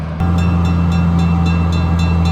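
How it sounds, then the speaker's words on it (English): A small Plymouth locomotive drones steadily up close while pushing a train, a loud continuous rumble with a faint rhythmic clatter of wheels passing over rail joints. "there's your little Plymouth locomotive giving it a push"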